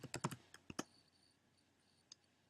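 A computer keyboard is typed on in a short quick burst of clicks followed by a couple of isolated taps, close and fairly quiet, with no speech.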